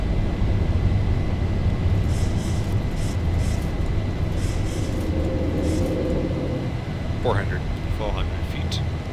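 Continuous loud engine roar and rumble of a Boeing 737 taking off and climbing in the X-Plane 11 flight simulator, steady throughout, with a few faint tones and chirps near the end.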